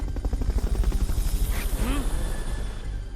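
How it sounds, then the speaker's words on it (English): Fulton recovery helicopter in Metal Gear Solid: Peace Walker, a loud, close rotor chop pulsing in rapid regular beats, with brief game voice sounds over it. "Fulton recovery helicopter is complete"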